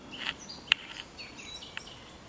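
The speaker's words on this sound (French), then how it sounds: "Chant des oiseaux et le silence." A few faint, high bird chirps sound at a distance over a quiet field. They are scattered and sparse, with near silence between them and no talking.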